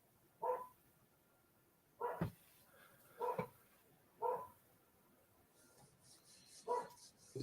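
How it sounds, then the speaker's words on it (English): A dog barks five times in evenly spaced single woofs, clear and moderately close, with quiet room background between barks and no talking. "Can you hear the dog barking?"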